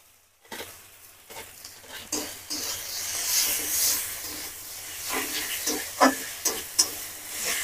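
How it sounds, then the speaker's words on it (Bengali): Grated potato goes into a pan of softened onion, ginger, garlic and pointed gourd seeds, rising from quiet into a loud steamy hiss, followed by steady frying with several sharp spatula knocks toward the end. "আলুটা একটু ভাজা ভাজা মতন করে নেবো।"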